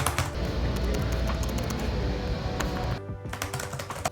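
Typing on the loud keyboard of an Alienware M15 R5 laptop, rapid clacking keystrokes heard close up over a busy background, thinning into scattered sharper taps toward the end.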